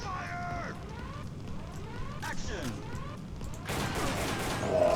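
Rapid light-gun shooting in the 1996 PlayStation arcade shooter Time Crisis, a busy stream of game gunfire, enemy shots and effects mixed with music, ending in a denser burst of noise.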